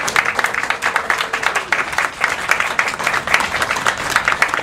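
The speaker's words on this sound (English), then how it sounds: "Everybody give them a big round of applause." Audience claps for two honorees being awarded a medal, a lively round of distinct, rhythmic hand claps from a modest crowd, close and fairly loud, with a brief vocal sound early on.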